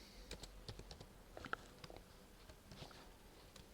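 Quiet, close clicking of computer keyboard keys as code is typed, in short irregular bursts of keystrokes with pauses.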